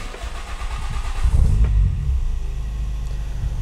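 A car engine run by a standalone ECU during idle tuning cranks and catches, its low rumble swelling sharply before settling into a steady, loud idle.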